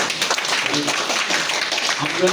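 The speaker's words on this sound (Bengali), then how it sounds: "কৃতজ্ঞতা স্বরূপ আমরা একটা করতালি দিতে পারি স্যারকে" Dense, steady audience applause fills the room at a farewell ceremony for a hospital cleaning worker in Lakshmipur, a continuous wash of many hands clapping at fairly loud, even level throughout with a faint murmur of voices beneath.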